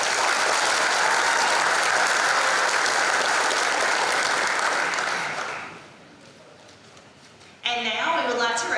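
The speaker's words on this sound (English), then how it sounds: "Let's please give these students a round of applause." Loud, dense audience applause at a high school graduation ceremony for graduating students, sustained for several seconds before thinning out, then a voice begins speaking over a public address system.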